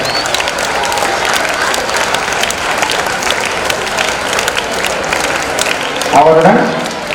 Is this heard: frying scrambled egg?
no